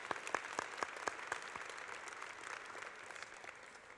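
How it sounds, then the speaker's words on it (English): An audience at an advocacy awards ceremony applauds leadership award finalists, a few sharp distinct claps up front over a softer, steady wash of clapping that gradually thins out. "Let's give them another round of applause."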